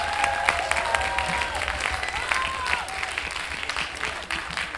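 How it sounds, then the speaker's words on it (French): Audience applause at a 2021 slam poetry tournament night in Lyon, a dense steady wash of clapping with whoops and cheers rising over it throughout. "On les applaudit plus fort"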